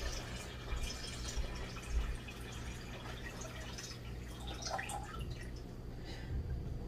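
Water poured into the tank of an Arctic Air Tower cooler, a steady close trickle and splash with light dripping that runs throughout, no one talking.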